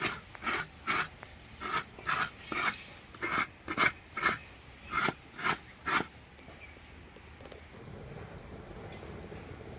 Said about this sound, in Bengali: আমি এখানে নারকেলটাকে কুড়িয়ে নিচ্ছি